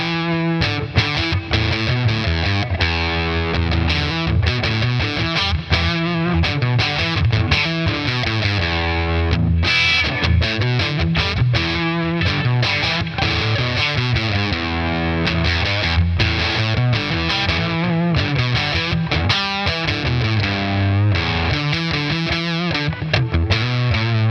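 A Boss Katana Gen 3 amp on its second distortion type drives a guitar through continuous chords and riffs, thick and saturated, with a balanced high and low end and a brief accented burst about midway.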